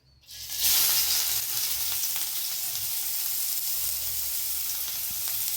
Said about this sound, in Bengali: হ্যাঁ, সামান্য তেল দিয়ে আমি এই যে পেঁয়াজ কুচি, লঙ্কা কুচি এইগুলো দিয়ে দেবো।